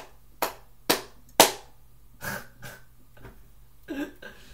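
Three sharp, loud hand claps ring out close up in quick succession, followed by softer breathy rustling sounds.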